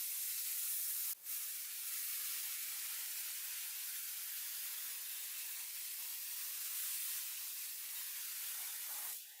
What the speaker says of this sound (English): after we rinse it off with the power washer here